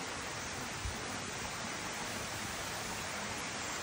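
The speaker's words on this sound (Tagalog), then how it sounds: "The waterfalls right there." Busay Falls in Leyte pours as a steady, dense roar of falling water, continuous and even from start to finish with no voices over it.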